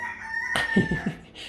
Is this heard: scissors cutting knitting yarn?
no